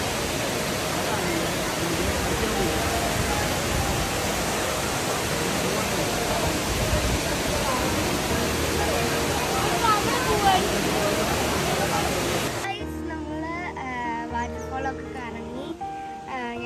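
Steady roar of the waterfall at Aaliyar Monkey Falls fills most of the stretch, a broad rushing wash that cuts off sharply near the end, leaving quieter outdoor background with faint voices.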